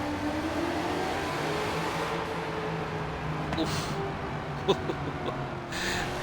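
A car launching with turbo boost in the racing game Forza Horizon 4, a steady engine drone and whirring rising under acceleration, with a few sharper clicks and bursts toward the end.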